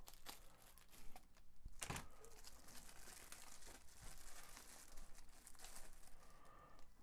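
Packaging carefully peeled away from a delivered plant, with close, soft crinkling and rustling throughout and one sharper crackle early on, no voices.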